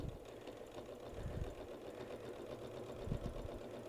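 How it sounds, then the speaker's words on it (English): A home sewing machine running a short back stitch on a child's apron hums steadily up close with a rapid mechanical chatter, brief pulses of speed near the end and no talking. "I'm just gonna do a small little back stitch just to keep it all good."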